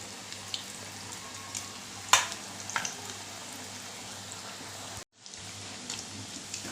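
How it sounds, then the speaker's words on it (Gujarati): Steady sizzle of a snack made from leftover rotis frying in hot oil over medium heat, with a few sharper crackles and pops, then a brief cut before the sizzling resumes. "મીડિયમ ગેસ ઉપર આપણે એને તળી લેવાના"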